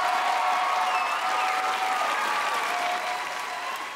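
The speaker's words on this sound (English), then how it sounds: "Give them a round of applause." A comedy club audience giving a continuous round of applause, dense clapping with a few whoops that slowly fades toward the end.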